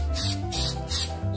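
Paint or coating sprayed onto a tumbler in three short, loud hissing bursts, with a steady hum between them and no talking.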